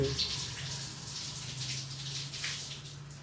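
Water splashes and pours continuously as pet turtles bathe in warm water, a steady close gush with bright spattering throughout.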